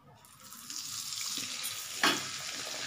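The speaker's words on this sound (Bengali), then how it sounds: "এবার আমি কচুরিটা ছাড়বো, আস্তে করে ছাড়বো" A pea-filled kachori is slipped into smoking-hot oil over lowered heat, and a soft sizzle swells and then bursts into a louder close crackle about two-thirds of the way in. No one talks.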